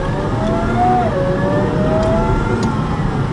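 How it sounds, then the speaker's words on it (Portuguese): Supercharged 4.4L V8 in a Cadillac STS revving steadily, with a rising and falling engine tone held under a continuous close, loud drone. "Esse motor tem um som muito bonito."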